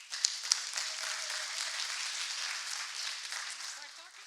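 An audience at an architecture talk applauds in a steady, dense wash of clapping that runs evenly throughout, with a few sharper claps near the start.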